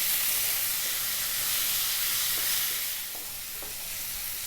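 Boiled lentils fry with spices in a pan, producing a loud, continuous hissing sizzle with faint stirring scrapes that eases slightly toward the end, with no voices.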